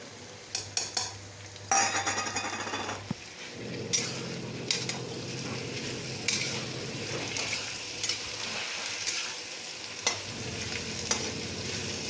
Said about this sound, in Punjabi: ਸੌਫਟ ਹੋ ਚੁੱਕੇ ਨੇ ਆਪਣੇ ਹੁਣ ਇਹ 'ਚ ਆਪਾਂ ਪਾਵਾਂਗੇ ਜੋ ਵੀ ਆਪਾਂ ਕੱਟਿਆ ਸੀ ਟਮਾਟਰ